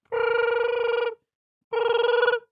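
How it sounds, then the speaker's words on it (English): Classic telephone bell ringing loudly and close, two even trilling bursts of about a second each separated by a short pause, with no talking. "you're about to get a phone call."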